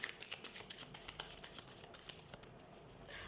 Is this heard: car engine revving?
no